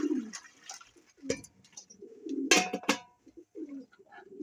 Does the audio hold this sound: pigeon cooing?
yes